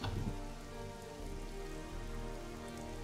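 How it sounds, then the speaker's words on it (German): Steady, constant rain pattering on a surface, a dense even hiss with no pauses and no voices. "Ja, und dieser ständige Regen."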